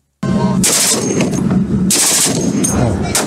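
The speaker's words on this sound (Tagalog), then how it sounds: "ang sunod-sunod na putok ng mga baril sa dagat" Rapid bursts of heavy automatic gunfire from navy ships at sea, continuous and loud, with sharper cracking volleys repeating throughout.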